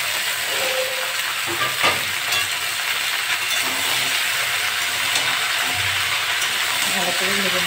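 Vegetables fry in a pan with onion and green chili, giving a loud, steady sizzle with scattered utensil scrapes close by.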